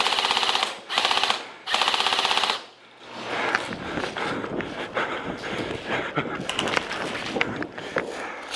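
Airsoft guns fire in rapid bursts at an indoor team deathmatch, three loud full-auto strings in quick succession, then scuffling movement, scattered shots and muffled player voices.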